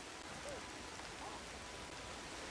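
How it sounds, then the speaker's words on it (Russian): Steady, even rainfall in the video game Ancestors: The Humankind Odyssey hisses throughout, a soft continuous patter with no breaks. "Надо, короче, переспать этот дождь."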